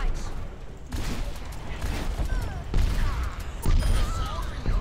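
Pharah fires rockets in the Overwatch video game, giving repeated explosive bursts and blasts over a busy, noisy game soundscape, with no clear talk.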